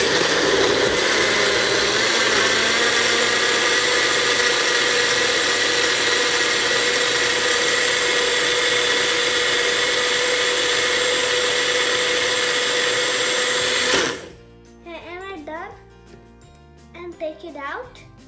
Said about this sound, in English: Then put this right in the blender